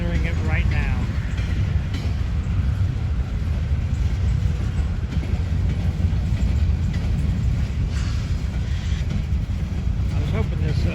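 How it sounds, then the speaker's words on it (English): A Norfolk Southern freight train rolls through a switch onto a loop track in Kenova, West Virginia, a continuous low rumble of wheels and cars heard from nearby, with faint intermittent squeal and clatter and no clear talk. "Now they're switching on to CSX track, and then they're going to go right again onto the Norfolk Southern loop track."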